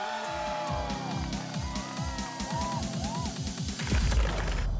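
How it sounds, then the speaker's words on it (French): A toy monster truck in a Hot Wheels stunt arena clatters through barrels and tumbles off a ramp amid a busy, loud mix of revving engine sounds, squeals and a crashing burst near the end. "La voiture renverse les barils et monte la rampe, mais retombe en roulé-boulé."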